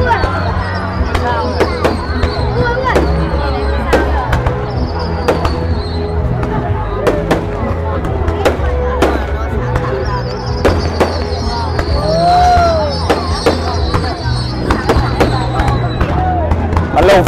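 Fireworks display at the 2024 Hội Lim festival in Vietnam: a steady run of sharp cracks and bangs with whistling rising shells, fairly close, under a murmur of crowd chatter and nearby voices.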